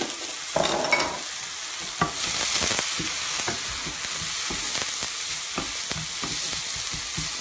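Turmeric and cumin frying in a pan make a steady bright sizzle, with scattered stirring clicks and taps close by and no one talking.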